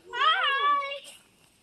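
A pet bird at a reptile and exotic animal venue gives a single drawn-out, harmonic squawking call lasting about a second, loud and close, while people coax it to speak.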